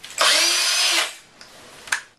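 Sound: battery-operated cordless drill running

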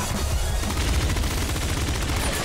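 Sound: pop gun shooting in the video game Nuclear Throne

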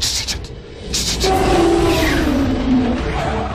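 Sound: five-cylinder race engine off throttle

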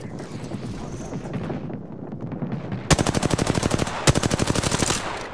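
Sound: gunfire from a video game

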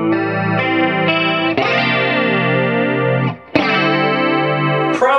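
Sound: Electro-Harmonix Electric Mistress flanger pedal on guitar

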